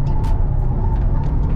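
A Toyota Agya GR Sport on a race circuit, its engine droning steadily and loudly from close by, with a few short hissing bursts over the low rumble.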